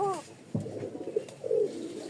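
A pair of Rajshahi Giribaj pigeons in a loft gives a few soft, close coos, a low throaty rolling call rising over faint background noise.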